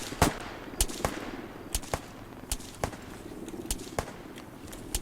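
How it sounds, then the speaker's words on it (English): Distant gunfire from a patrol up a valley in Arma 3, with sharp single shots cracking at irregular intervals of roughly half a second to a second over faint ambient noise. "Sounds like there's fire coming from the patrol that was further up the valley though."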